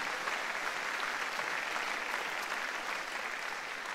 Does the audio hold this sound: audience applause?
yes